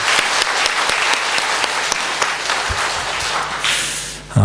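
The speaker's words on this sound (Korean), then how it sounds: "우리 다시 한번 하나님께 영광의 박수 올려드리겠습니다" A church congregation applauds after a Sunday sermon, giving a loud sustained round of clapping that fills the room. Near its end it thins briefly and a low thump sounds.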